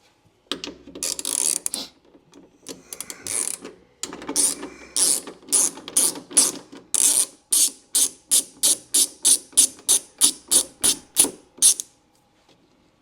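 Ratchet wrench backing out bolts on a 1991 Alfa Romeo Spider, close and crisp: irregular clicking at first, then a steady run of rapid, evenly spaced ratcheting strokes that stops abruptly near the end.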